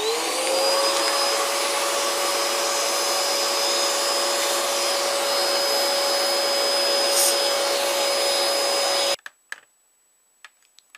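Vacuum cleaner sucking cobwebs out of a 1946 Bush DAC 90 AC/DC valve radio, a loud steady whining drone that runs for about nine seconds and then cuts off, followed by a few faint clicks and knocks.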